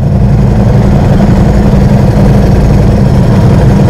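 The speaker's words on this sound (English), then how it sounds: "this bike though just wants to rip at full speed" A Ducati motorcycle's engine roars loud and steady as the bike is ridden hard at speed, a dense low rumble mixed with wind noise and no talk.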